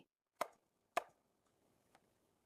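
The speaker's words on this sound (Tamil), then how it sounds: "Chopping carrots for the stir fry." Two crisp knife chops through carrots on a board, then a fainter third tap, isolated against near silence.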